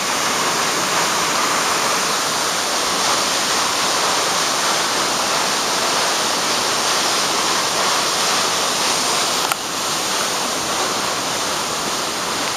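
Queen Mary Falls pours in a loud, unbroken roar of falling water, a dense, steady wash of noise close by with one brief knock near the end and no voices.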